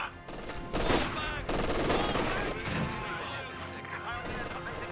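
Machine gun fire in the real-time strategy game Company of Heroes 2, bursting repeatedly in a dense wash of battle noise with other gunfire and explosions, under talk.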